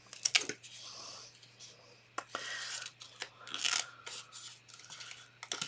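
Scissors snip through paper and card for a chocolate heart gift box, with several crisp cuts and rustles up close while a person talks in between.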